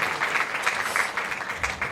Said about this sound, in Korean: 우리 수고한 팀에게 다시 한번 박수로 여러분들 격려해 주시면 감사하겠습니다